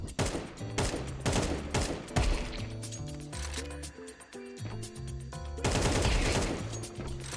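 Rapid gunfire from Counter-Strike 2 on a training map: sharp, punchy shots in quick bursts and single cracks, loud and close, running almost continuously without speech.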